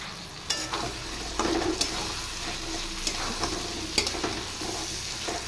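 Elephant foot yam curry frying in a pan, a steady close sizzle broken by scattered clicks and scrapes of a spoon stirring, with no voices.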